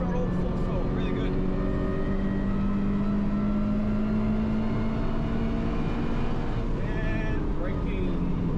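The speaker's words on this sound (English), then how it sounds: "Lift, turn, quarter throttle, half throttle, full throttle, really good." A Toyota 86 engine accelerates hard on the Wakefield Park race track, its tone climbing steadily and loudly in a continuous in-car drone as the throttle opens from partial to full.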